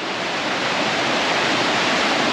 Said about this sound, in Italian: c'è il ruscello qui sotto di me